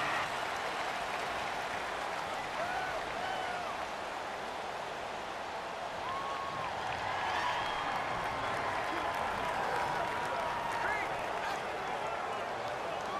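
Stadium crowd noise in the Madden NFL 19 video game, a constant roar of cheering and clapping from the home crowd during a Buccaneers versus Panthers matchup, with commentary voices over it.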